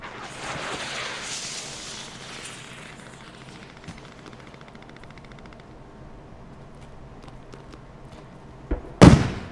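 Distant artillery guns fire in a combat video game, a few muffled booms spread over rumbling battlefield noise, ending with one loud, sharp blast close by.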